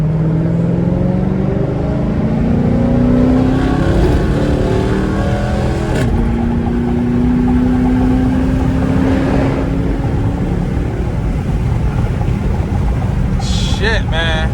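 A straight-piped Chrysler 300S Hemi rumbles loud and close at night, its deep exhaust drone rising and falling through revs as the sound reflects off surrounding walls; someone talks over it.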